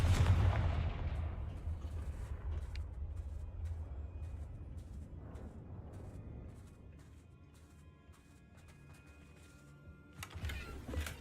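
Booming blasts from the Confringo fire spell in the video game Hogwarts Legacy, a heavy explosion opening the moment and decaying into rumbling, crackling aftermath with scattered sharp impacts and a rising burst near the end.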